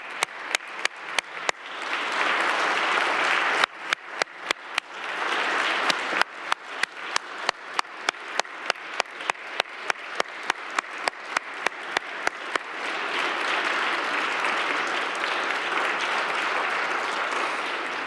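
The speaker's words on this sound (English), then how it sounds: "Let's give them a round of applause." Applause from a Cleveland City Council meeting audience honoring members of Delta Sigma Theta Sorority, a full, sustained round of many hands clapping that swells, thins slightly in the middle, then builds again, loud and close, with no talk over it.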